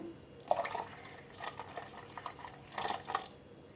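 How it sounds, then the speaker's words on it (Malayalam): Cold milk, about half a cup, pours into a watermelon ice cream mixture in a few short, soft liquid bursts, quiet and close, with no talking. "ഇനി ഇതിലേക്ക് നല്ല തണുപ്പിച്ച അരക്കപ്പ് പാല് കൂടി ഞാനിവിടെ ആഡ് ചെയ്യുന്നുണ്ട്"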